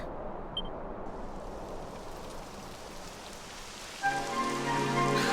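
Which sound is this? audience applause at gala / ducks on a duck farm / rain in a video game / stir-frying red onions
rain in a video game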